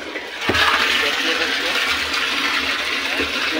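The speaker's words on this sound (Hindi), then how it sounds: "अभी हम पानी भर रहे हैं ड्रम में पोल्ट्री फार्म के लिए।" Water gushes into a drum being filled for a poultry farm, starting suddenly and then running as a steady, close rushing stream.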